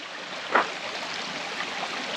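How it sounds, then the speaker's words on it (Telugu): Stream water flows through a Dantewada forest in Chhattisgarh, a soft, steady rush heard from nearby, with one brief louder splash early on and no talking. "వినబడుతుంది కదా, ఓన్లీ నీళ్ళు పోయే సౌండ్"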